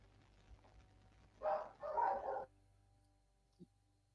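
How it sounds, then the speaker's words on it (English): Dogs bark in a short burst of two or three muffled barks from another room, faint and distant, followed by a single soft yip. "it's making my fucking dogs go the fuck off"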